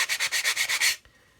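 Plastic model kit parts are gently sanded by hand, about eight quick rhythmic rubbing strokes close up before the scraping stops.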